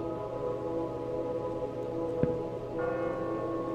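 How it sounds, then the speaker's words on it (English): A bell ringing in the video game Sunken Heads, sustained resonant tones layered over a low ominous drone, with a brief sharp strike partway through and a brighter bell layer entering near the end. "Bell is ringing."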